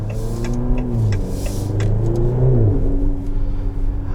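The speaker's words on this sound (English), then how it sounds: "You do get the upshift, not fart sound, it's a Maserati, you gotta be sophisticated here. Upshift, little burble." Engine of a 2023 Maserati Grecale Modena Limited Edition, heard from inside the cabin, climbs in pitch and then drops on each upshift with a small, soft burble; the drone is steady and close throughout.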